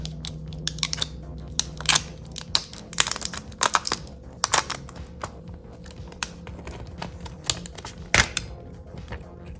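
Crinkly tearing and crunching of plastic packaging from a Samsung Galaxy Z Flip3 5G Bespoke Edition phone being unwrapped, heard as close, irregular bursts of rustles and snaps over about ten seconds with no talk.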